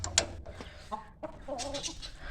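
Several roosters and chicks in a cage cluck and squawk nearby in short, uneven bursts, with a sharp higher call near the start.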